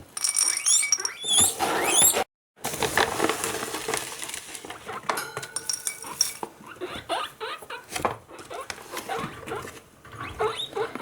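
A guinea pig squeaks repeatedly in high, chirping bursts while dry food is stirred and rattled in a bowl for its dinner, with clattering and crunching throughout.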